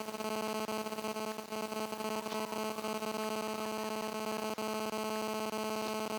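A refrigerator line is evacuated by a vacuum pump that runs with a steady, dense mechanical hum and buzzing vibration, constant and close, with no talk over it.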